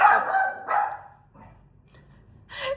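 A dog named Tobi barking after being set off by another dog, two loud close barks in quick succession followed by quieter yips and a final sharp bark.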